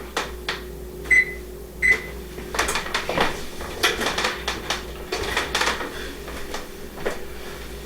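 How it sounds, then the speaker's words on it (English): An oven is set to preheat with two short electronic beeps from its control panel, followed by clattering dishes and kitchen handling noises nearby. "let me preheat the oven"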